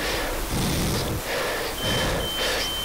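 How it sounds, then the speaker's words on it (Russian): An alarm repeatedly beeps inside a building in The Isle Evrima game, with four evenly spaced electronic bursts in a steady rhythm over a constant background hum. "Чёртова сигнализация,"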